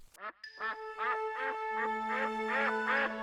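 A Pekin duck quacking nearby: a rapid series of about eight loud, nasal quacks in steady rhythm, growing slightly stronger toward the end, with no voices.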